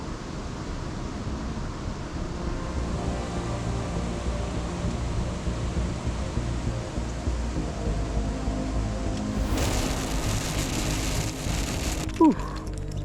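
Rain falls steadily at a Florida spillway, a dense, even hiss of drops that holds throughout at moderate loudness, briefly intensifying near the end with a small clunk.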